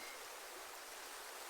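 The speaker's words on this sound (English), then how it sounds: "I'm back at the river. You see it behind me." A river flows in a steady broadband rush, constant and even with no pauses, heard fairly near and with no voices.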